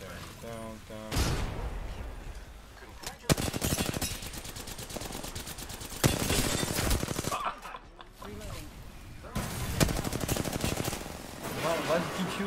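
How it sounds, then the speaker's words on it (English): Rapid gunfire in PUBG, bursts of automatic shots in several loud volleys separated by short pauses, with brief speech between them. "Why do you keep shooting?"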